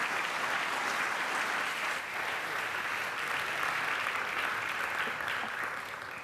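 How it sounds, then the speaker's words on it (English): A symposium audience claps steadily and evenly throughout, a full sustained round of applause that fades slightly at the end. "You have applauded your expectations"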